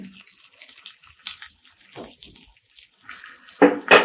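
Water sprinkled onto cumin potatoes cooking in a pan: a quiet, sparse background, then brief splashy hisses, a small one first and a louder burst at the end.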